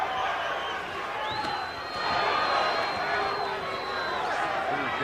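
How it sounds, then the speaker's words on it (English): A boxing arena crowd roaring and cheering as the first round of a Shane Mosley versus Wilfredo Rivera fight begins, a dense, steady wall of noise with a whistle cutting through, heard under commentary. "this crowd is pretty pumped up tonight"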